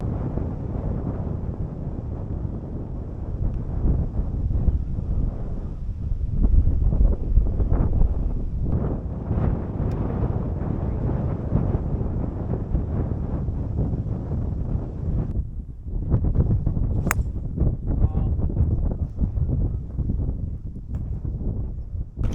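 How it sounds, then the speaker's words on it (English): Blustery wind buffets the microphone on the South Shields links golf course, a loud, continuous low rumble with gusting surges and brief lulls, with no one talking. "it is slightly blustery here at South Shields Golf Course"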